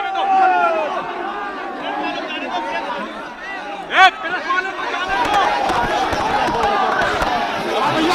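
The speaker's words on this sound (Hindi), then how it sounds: "बड़ी संख्या में समाजवादी पार्टी के कार्यकर्ता वहां नारेबाजी कर रहे हैं" Samajwadi Party workers at a crowded Lucknow protest raise a dense wall of overlapping voices, with chanting and shouting that swells loudly throughout and grows rougher and noisier in the second half.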